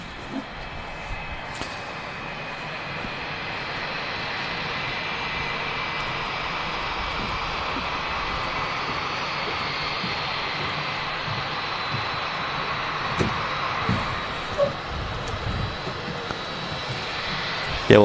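A Jet2 Boeing 757 taxis at Manchester Airport, its jet engines giving a steady, moderately loud whine and roar that holds for the whole stretch, with occasional faint knocks and a brief click near the end.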